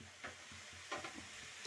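Curry leaves and spices sizzle and hiss quietly in a hot pan, with soft stirring scrapes and small crackling bursts over a steady frying background.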